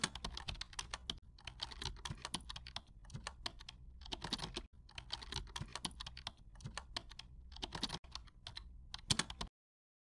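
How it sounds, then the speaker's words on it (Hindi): Quiet, rapid typing on a computer keyboard, with clicky keystrokes coming in bursts and short pauses between them before it stops near the end. "इसलिए अब हम टाइप करेंगे"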